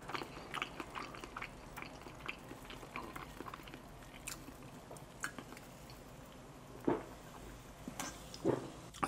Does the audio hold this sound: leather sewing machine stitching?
no